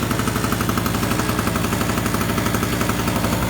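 A two-year-old gas generator treated with fuel stabilizer runs steadily, a loud, close, even engine chatter with a fast rhythmic pulse throughout and no voices.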